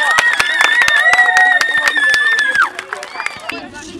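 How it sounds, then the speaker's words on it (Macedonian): Children in a classroom clap for a classmate named Kate, a loose patter of scattered handclaps mixed with bright, high-pitched young voices and chatter that thins out toward the end. "еден аплауз за Кате"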